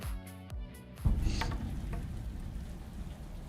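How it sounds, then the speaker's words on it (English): Rain and thunder from The Batman trailer: after a low rumbling tone, a dense rush of heavy rain sets in and carries on steadily, close and full. "On a dark and stormy night"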